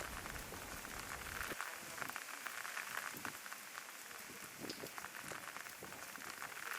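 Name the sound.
raindrops falling from eaves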